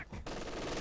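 A .50 cal machine gun in Company of Heroes 2 opens up after a brief quiet moment, a rapid rattling burst of fire that continues to the end, moderately loud.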